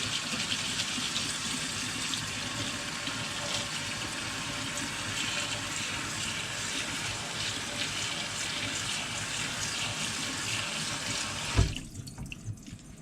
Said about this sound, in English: A light rinse.